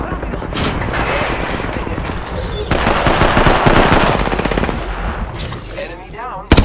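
Rapid automatic gunfire from a first-person shooter battle royale match, dense bursts of shots and impacts running loud throughout with brief in-game voice callouts mixed in.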